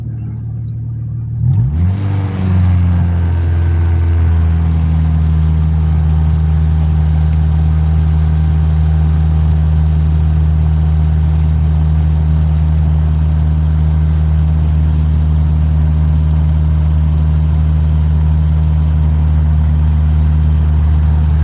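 A Honda GSR's engine starts up and then settles into a steady, loud hum held at around 2,500 RPM, droning continuously without revving for most of the stretch.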